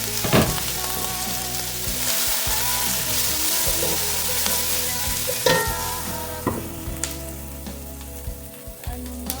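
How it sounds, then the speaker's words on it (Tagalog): A pot of trevally fish head soup with red onions bubbles and sizzles steadily on the stove, with a few sharp clinks and knocks of the lid and utensils over the continuous hiss. "Just cover and simmer for 2 minutes."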